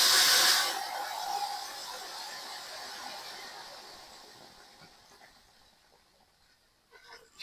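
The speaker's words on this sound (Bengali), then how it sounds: "আগে গরম করে রাখা জল আমি সিমাইয়ের ভিতরে দিয়ে দেবো।" Hot water hitting fried vermicelli (semai) in a pan gives a loud, brief burst of hissing steam that fades into a softer lingering sizzle, with faint clatter near the end.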